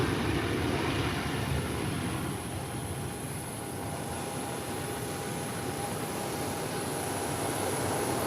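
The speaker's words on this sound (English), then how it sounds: "This is United Airlines. Just touched down." A United Airlines airliner taxis after touching down, giving a steady, continuous jet-engine roar with a thin high whine on top. The sound is fairly close and holds level throughout, with no talking.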